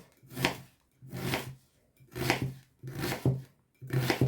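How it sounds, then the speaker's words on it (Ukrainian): A knife chops through onion on a cutting board in five separate bursts of crisp cutting, each about a second apart, close and clear. "нарізаю цибулинку."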